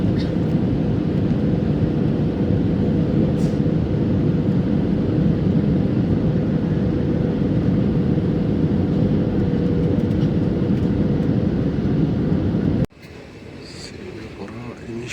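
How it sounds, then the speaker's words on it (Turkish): Inside a passenger airplane landing in Singapore, a loud, steady cabin roar of engines and airflow fills the scene, then cuts off abruptly near the end, leaving a quieter interior with faint voices. "Singapur'a iniş yaptık."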